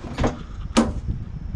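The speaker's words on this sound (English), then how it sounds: "So let me open these doors here." Doors of a Toyota Corolla being converted into a camper are opened, giving two short clunks about half a second apart, close and moderately loud, with no talking.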